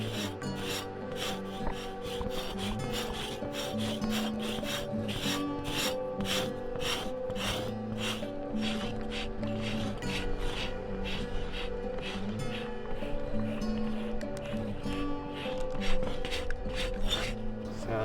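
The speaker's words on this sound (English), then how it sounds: "What we're doing is we're scraping the hair off so we could prepare it for like a drum." Steady rhythmic scraping of a buffalo hide stretched on a rack to remove its hair, rapid repeated rasping strokes, loud and close throughout with no talking.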